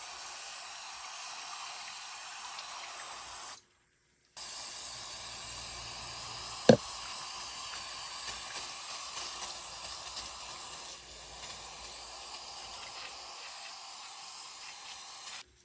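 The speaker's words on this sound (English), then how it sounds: "Got the air compressor, just blew it out." An air compressor's nozzle blasts a steady loud hiss of air while blowing out the air filter of a 1978 Suzuki DR370 motorcycle, stopping once briefly, then continuing with a sharp click partway through.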